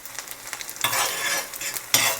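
An egg fries in a pan, a close, bright sizzle that swells and fades with scraping stir sounds and a couple of louder spatters, with no talking.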